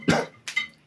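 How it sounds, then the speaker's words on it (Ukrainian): A single sharp cough followed by a smaller second huff, close and brief. "Перше кашляв"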